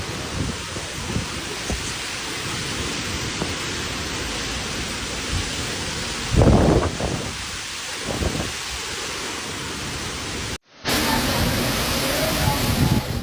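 Heavy rain pours in a dense, steady roar during a thunderstorm in Lombardy, with a few louder surges of rumbling or gusting, close and unbroken apart from a brief cut near the end.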